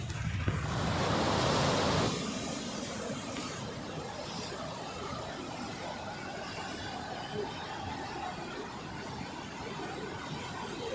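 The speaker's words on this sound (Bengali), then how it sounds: "যতটাই জল আছে খুব স্পিডে জল যাচ্ছে" Water rushes fast through the Mukutmanipur dam despite its low level, a loud broadband roar that surges for the first two seconds and then settles into a steady, close rushing wash.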